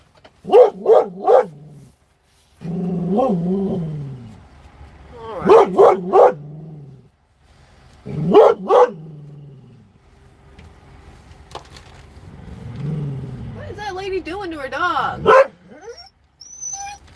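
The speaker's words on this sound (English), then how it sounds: "He's barking at dogs. That's what he's barking at." A dog barks in several short bursts, with whines and yelps between them and people talking nearby.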